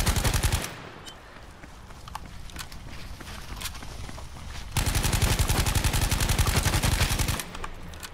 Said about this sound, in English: I actually heard shooting to my right.